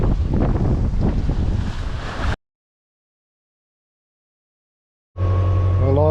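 Sea waves and wind noise while sailing a boat on the Red Sea, a loud broadband rush of water and gusting wind for a couple of seconds, then silence, then a steadier engine-like hum with tonal bands.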